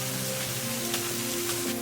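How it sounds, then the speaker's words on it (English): Rain falls steadily during a hike near the Emerald Pools at Zion National Park, making a constant soft hiss that stays even throughout with no voices. "It's raining. It's wet."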